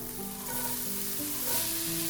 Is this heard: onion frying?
yes